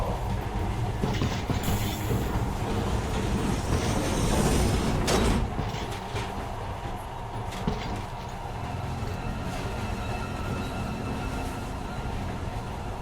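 A subway train rolls into a station in the Metro Last Light video game, with a steady rumble of rail cars and wheel noise swelling around the middle before settling into a continuous low hum; no one talks.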